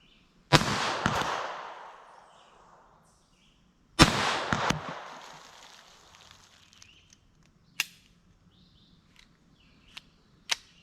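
Two sharp .22 Long Rifle pistol shots fired with Winchester Xpert22X ammunition, each crack followed by a long decaying echo, then a few fainter distant clicks and pops trail off.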